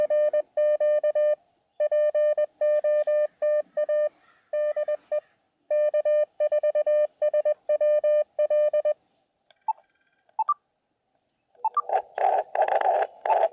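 Amateur radio Morse code beeps, a single steady tone keyed in rapid dots and dashes, followed by bursts of noisy static, received outdoors at Scioto Trail State Park.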